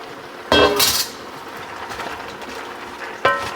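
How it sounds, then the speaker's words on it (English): Potatoes tipped into a pot with garlic, giving two loud clattering thuds against metal a few seconds apart, separated by a quieter rustle, with no voices. "And let's get our potatoes in."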